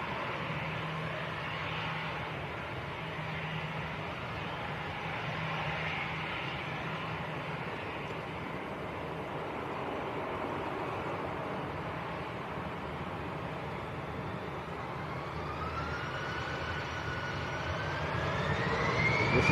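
An EasyJet airliner departing for Belfast, its jet engines a steady distant roar that swells louder toward the end as the plane climbs away.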